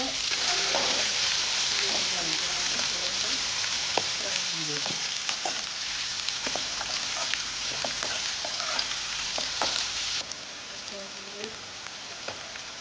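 Green chilli and plenty of onion frying in a pan for poha, a continuous close sizzle with scattered spatula scrapes and stirring clinks throughout.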